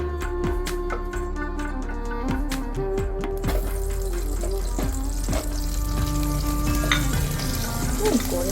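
Potatoes frying in leftover oil in a pan for chicken biryani: a continuous close sizzle with intermittent clinks and scrapes of a spatula stirring, and no talking.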